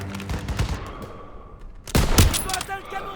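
Gunfire in the video game Call of Duty WWII, World War II combat: a burst of sharp shots crackles in the middle amid battle noise, with voices talking through the scene.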